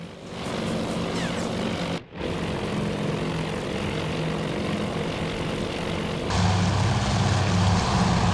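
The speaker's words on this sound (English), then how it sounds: "Here's the torpedo bombers. Yeah, these are Lexington's torpedo bombers. They're going in." Lexington's torpedo bombers fly in during a Task Force Admiral naval battle, a steady droning propeller-engine roar that holds throughout and swells a little louder near the end.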